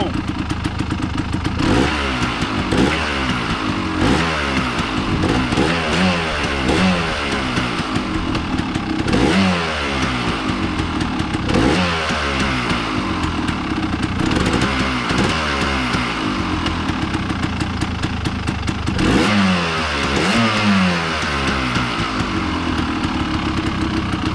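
A motorcycle engine runs loudly and steadily throughout, with repeated revs rising and falling in bursts over a rough idle.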